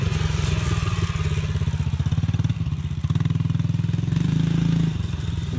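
A dirt bike engine runs close and loud, rumbling steadily through turns with slight rises and dips in revs around a riding track, without pause for the full stretch.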